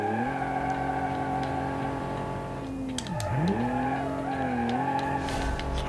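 Car tires skidding and squealing through a drift in the Automation racing game, a loud sustained screech with a pitch that dips sharply and recovers, over a steady engine drone.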